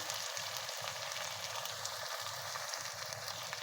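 Minced keema frying in a pan gives off a steady, dense sizzle throughout, with faint scraping and stirring underneath and no talking.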